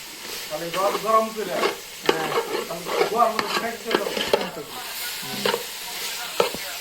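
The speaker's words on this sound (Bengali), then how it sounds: "এই যে আমাদের তো চিংড়ি ভাজার কাজ শুরু" Sea prawns fry with spices in a pan while a utensil stirs them, giving repeated scraping strokes over a soft, close sizzle.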